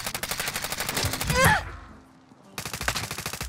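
Rapid automatic gunfire in Call of Duty Warzone, loud close bursts with a sharp rhythmic rattle, a short quiet gap, then another sustained burst.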